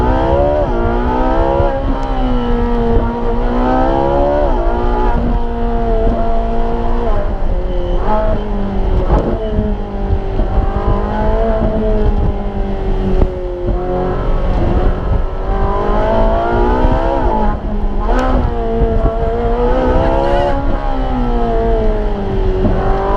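A supercar's engine revs loud and close while driving, its pitch sweeping up and down through gear changes in a continuous roar that dominates throughout.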